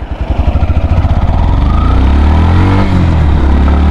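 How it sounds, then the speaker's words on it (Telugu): A 2025 Yamaha FZ-X motorcycle accelerates hard in first gear on a highway, its engine rising from loud rapid pulsing into a steady high-revving roar, close and alone. "ఇప్పుడు ఈ హైవే పైన ప్రతి గేర్లో పర్ఫార్మెన్స్ ఎలా ఉందో చూద్దాం. Starting with the first gear."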